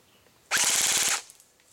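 An ECHO 1 Zombat Stryker airsoft gun fires one loud, rapid full-auto burst on a 10.8 volt battery. The burst lasts about three quarters of a second, with distinct fast pulses and no talking.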